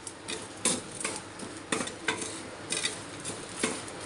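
Chana dal roasts with hing powder in a pan as a spoon stirs with sharp scraping strokes and clinks at an uneven rhythm over a faint sizzle.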